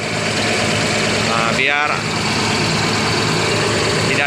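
A parked ALS bus 270 idles with a loud, steady engine drone while someone talks briefly over it.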